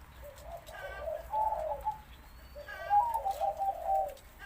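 A spotted dove gives two close, clear cooing phrases, each a short run of soft rolling notes followed by a pause, with faint background hum.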